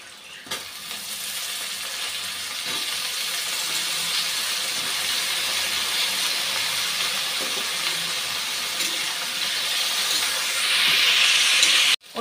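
Eggplant pieces dropped into hot oil for a fish and sweet pumpkin fry dish, with a loud continuous sizzle and hiss that holds steady and swells near the end, close and without talk.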